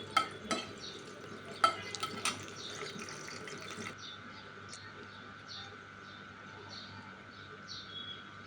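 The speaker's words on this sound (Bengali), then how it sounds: "প্রথমে মরিচগুলা ভেজে নেই তেলের মধ্যে। মুচমুচু করে ভেজে নিলাম।" Chillies fry in oil for beef spleen mash, a soft, steady sizzle under a few sharp utensil knocks early on, then a quieter continuous hiss with faint scraping.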